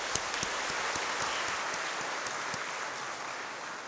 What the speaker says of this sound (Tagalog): Bigyan natin mahal na Panginoon isa pa malakas na palakpak.